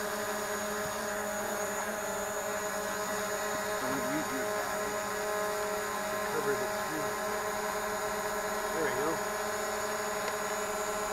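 A Full Speed Leader 120 quad drone flies with a constant, even motor whine, while people talk intermittently nearby.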